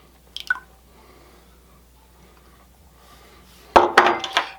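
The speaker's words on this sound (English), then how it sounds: "we're going to add to that 2 eggs." Two eggs drop into a milk mixture for cookies and cream rolls, a small clink early on and then a burst of wet cracking and splashing near the end, close and otherwise quiet.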